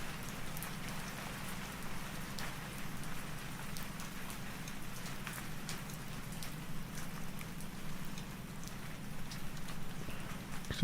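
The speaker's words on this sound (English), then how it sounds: "Well, it's still rain, but it's different rain, okay?" Rain background ambience, a soft continuous patter of drops with scattered brighter ticks over a low steady bed, faint and even throughout with no talking.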